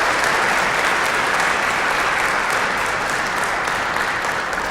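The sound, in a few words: congregation applauding in church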